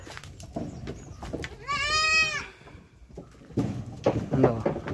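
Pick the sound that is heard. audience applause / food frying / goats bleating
goats bleating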